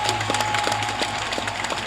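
A church congregation at an episcopal ordination gives thin, lukewarm applause: sparse, irregular claps scattered over a low steady hum.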